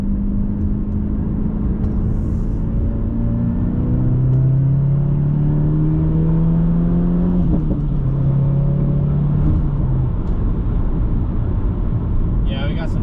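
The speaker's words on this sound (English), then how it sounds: "So this will be a little third gear pull." A 2022+ VB Subaru WRX with an AWE Touring catback exhaust pulls through third gear onto a highway. A loud, steady exhaust drone climbs in pitch for about ten seconds, then drops at the shift and settles.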